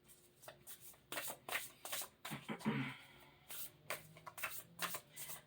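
Self-care wisdom cards being shuffled by hand, a run of quick papery riffles and soft slaps repeating steadily at close range, with no talking.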